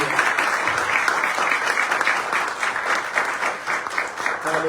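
A church congregation at a Sunday worship service breaks into steady, dense applause that holds at an even level for several seconds, with no talking over it.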